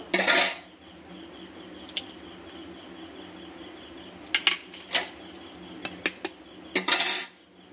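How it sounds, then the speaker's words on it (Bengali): Two eggs are cracked into a bowl and beaten, heard as a few close clicks followed by a quick run of sharp taps of utensil on bowl, with a brief rustle at the start and end and no talking. "বাটির মধ্যে আমি 2টো ডিম নিয়েছি। 2টো ডিম একটুখানি ফাটিয়ে নেবো।"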